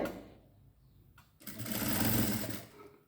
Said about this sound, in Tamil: லேஸினோட எஜ்லேயே தைச்சிட்டு வரேன்